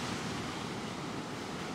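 Sea waves break and wash onto a beach at Balerma in Andalusia, Spain, a steady, loud broadband surf roar filling the whole moment with no voices.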